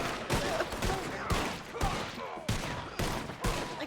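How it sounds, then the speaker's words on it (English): Gunfire in a GTA roleplay game: loud, close bursts of rapid shots in a dense volley, with sharp cracks repeating about every half second and no talk over them. "Who the fuck are these guys shooting at?"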